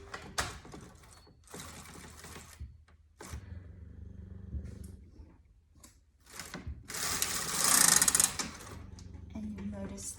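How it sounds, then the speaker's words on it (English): A Brother KH836 knitting machine carriage is pushed across the needle bed, giving a close rattling, clattering run that swells and pauses, with talking between passes. "And now we knit it across."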